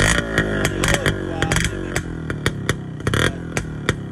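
A small Kawasaki Brutus motorcycle engine with a stretched stock muffler revs and idles up close, with sharp rhythmic popping bursts and a rough, buzzy exhaust tone throughout.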